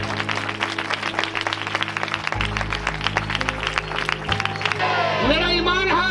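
Loud applause from a church congregation, dense clapping running steadily throughout, with voices and shouting over it and a singer or speaker rising near the end.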